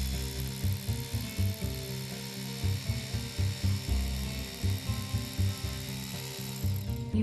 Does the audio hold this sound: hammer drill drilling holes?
yes